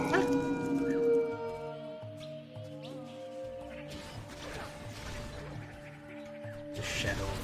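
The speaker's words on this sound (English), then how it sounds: "so I'm just gonna resummon the dogs." Summoned dogs in the Titan Quest Anniversary Edition video game letting out drawn-out howls over layered game music and effects, moderately loud amid a busy mix.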